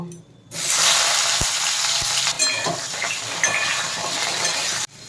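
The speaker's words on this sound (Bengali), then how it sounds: "এবার বেগুনটা ভেজে নেব" Eggplant pieces drop into hot oil and burst into a loud, dense sizzle that holds steady for several seconds, with a couple of clinks of utensil on pan, then cut off abruptly.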